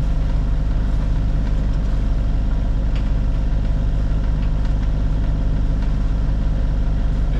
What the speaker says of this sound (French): C'est dommage qu'on soit au moteur.